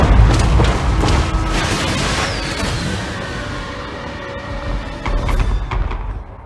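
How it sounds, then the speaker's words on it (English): Booming cannon fire from a Total War: Warhammer Empire battle, heavy low thumps and crashes rolling over a dense, continuous battlefield din with no talk. "The cannon's actually been shooting at this one"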